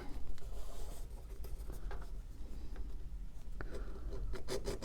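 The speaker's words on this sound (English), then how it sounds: "you're just taking that edge off of it where the razor blade came through" Edging tool rounding over the razor-cut edge of a leather hide, a close, continuous scraping and rasping with small scratchy strokes throughout, fairly quiet and with no talking.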